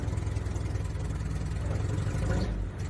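A Suzuki Samurai engine idles steadily after being started, a continuous low rumble close by that dips slightly at the very end, with no talk over it.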